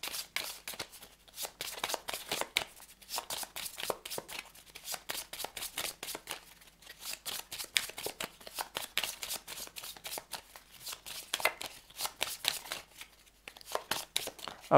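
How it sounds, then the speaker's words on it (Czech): A deck of cards is shuffled again and again, with quick riffling bursts of papery flutter repeating in a steady rhythm, close and fairly quiet, with no talking. "tento odkládací balíček se zamíchá"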